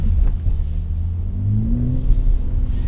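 BMW X3 M40i SUV engine in first gear, revving hard with a deep, steady rumble and rising pitch, with crackling exhaust pops breaking through near the end, heard up close with no talk.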